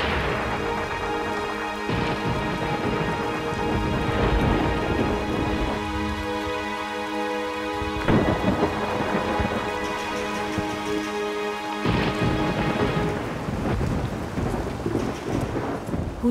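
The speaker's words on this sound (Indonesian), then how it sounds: "Hujan deras sekali." Heavy rain pours steadily with repeated deep rolls and cracks of thunder, loud and close, with no voices.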